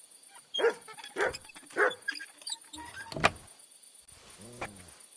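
A dog in Kingdom Come Deliverance 2 gives three close, separate barks about half a second apart, then a short whine, with a faint clatter between them.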